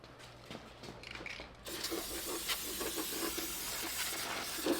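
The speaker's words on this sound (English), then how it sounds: "You hit it with a can of brake cleaner like this" A can of brake cleaner sprays in a steady, loud hiss that starts about a third of the way in and keeps going, with faint clanks and shop noise in the background.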